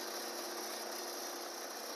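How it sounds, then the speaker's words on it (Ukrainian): The air-cooled engine of a crop sprayer runs steadily with a dense, even mechanical whir and clatter, faint and constant throughout with no voices. "Мотор з повітряним охолодженням"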